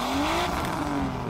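Onboard exhaust of a race car in the racing game Need for Speed: The Run, a loud sustained engine drone with a rising pitch, continuous and close throughout with no talk.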